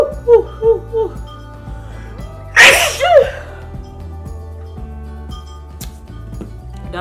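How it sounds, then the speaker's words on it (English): A single loud sneeze bursts out after a few soft vocal sounds, followed by a quiet sniff and low background hum. "Oh, I'm about to sneeze."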